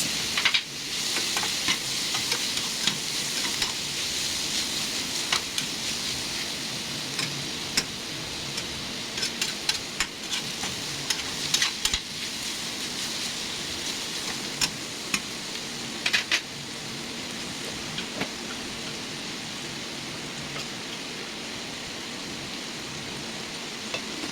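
Tomatoes and other ingredients sauté for chicken biryani with a steady, close sizzle of frying, broken by light scraping and stirring ticks of a utensil against the pan throughout.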